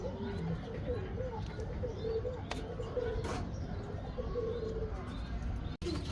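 Homing pigeons, a breeding pair with two young in a home loft, coo softly in low repeated murmurs amid light chirps and background rustle, with a brief click near the end.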